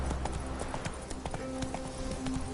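A horse gallops in The Witcher 3 with a rapid, rhythmic clip-clop of hooves at close range, layered over game ambience.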